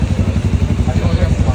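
Up close, a CF Moto 750 SR-S four-cylinder motorcycle idles with a loud, throbbing low pulse repeating at a rapid, even rhythm through the whole moment.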